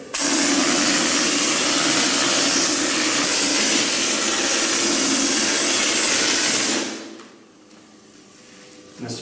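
A loud, steady hissing spray of drywall texture mud being blown from an air-powered hopper gun onto walls runs for several seconds, then cuts off abruptly, leaving quiet.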